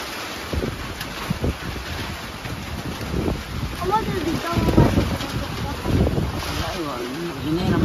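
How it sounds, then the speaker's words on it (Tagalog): Strong wind gusting through a house during a rainstorm, a loud rushing roar buffeting the microphone and swelling in waves while a person talks over it. "Hangin talaga, grabe hangin."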